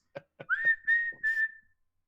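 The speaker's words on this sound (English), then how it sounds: "from upstairs, you hear multiple whistle things" A few dry clicks lead into a rising whistle, followed quickly by more whistle blasts in close succession that hold a steady shrill pitch before fading out, with no voices.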